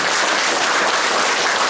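An audience at a Korean political rally and endorsement event for a candidate gives dense, sustained applause, many hands clapping at once in an even roar with no voice on top.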